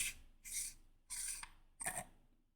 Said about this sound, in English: We'll take the pommel off here.